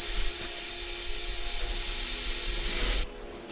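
Roadrunner chicks give a defensive call that mimics an angry rattlesnake, heard as a continuous loud, dry buzzing hiss that cuts off abruptly near the end and gives way to a few faint chirps.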